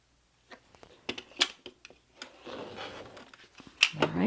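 Scissors or a cutter trim scrap quilt fabric strips at close range, a string of short, sharp snips and rustles in uneven bursts, with soft fabric handling between cuts.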